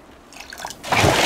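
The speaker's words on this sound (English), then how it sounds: "Fill with salt water" A cup fills with salt water in the survival video game Raft: a few light, close drips, then a brief burst of splashing, pouring water.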